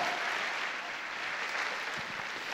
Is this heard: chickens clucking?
no